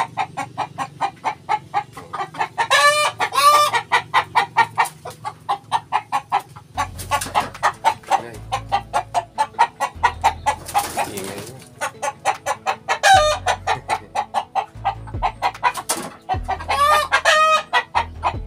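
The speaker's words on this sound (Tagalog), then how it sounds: "Na yung mga manok." Chickens cluck steadily and loudly throughout on a farm, with a rooster crowing several times in rising, drawn-out calls, near and busy, with no talk.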